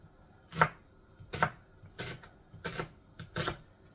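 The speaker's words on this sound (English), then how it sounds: "I'll take that centerpiece out. And we're going to chop that." A knife chops through fresh pineapple on a cutting board, about six sharp close strikes at an uneven, unhurried pace, with quiet pauses between and no voices.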